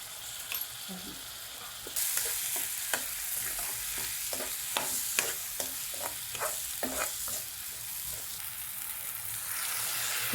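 Mustard greens (sarson ka saag) with asafoetida cooking in a pan, a continuous sizzle broken by a run of regular scraping strokes as a spoon stirs through them.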